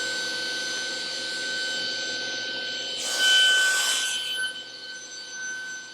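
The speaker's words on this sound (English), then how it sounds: "we can go ahead and cut the square section off of our piece." A hand saw or file cuts a square section off stainless steel stock, a harsh rasping burst in the middle over a steady background hum, with quieter scraping trailing off afterward.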